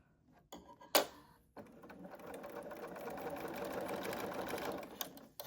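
A sewing machine stitches 3-inch quilt blocks in one steady, close run of a few seconds, with a couple of brief handling knocks before it starts.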